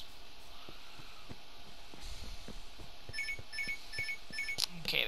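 A timer ticking and chiming in the Minecraft video game, with a steady series of soft clicks building into repeated bright, bell-like pulses that grow louder toward the end.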